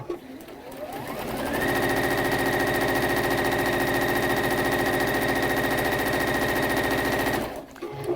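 A sewing machine chain piecing fabric runs in one continuous rapid rattling stitch burst for several seconds, loud and close, starting after a brief pause and stopping abruptly near the end.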